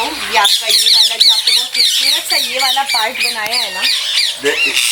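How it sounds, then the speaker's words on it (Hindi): Parakeets squawk in a dense, overlapping chorus as they return to their nests at a Gujarat farmhouse, loud and close, while someone talks over them. "ओह, आवाज है चिड़ियाओं की इतनी। पैराकिट्स"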